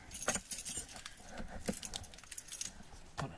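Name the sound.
bunch of keys jangling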